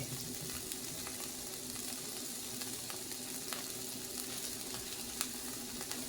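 Green pepper and onion frying in a pan alongside bacon give a steady, moderate sizzle with faint crackles and light pops throughout.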